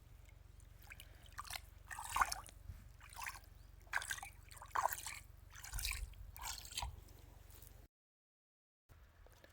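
Water trickling and splashing along an open irrigation channel on a farm with banana and mango trees, a steady close burble with louder gushes, cutting out briefly near the end before resuming.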